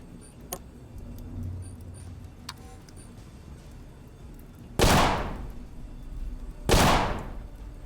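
Two sharp, loud pistol shots spaced about two seconds apart in the video game Colony Ship, each with a short decaying tail over a quiet ambient background.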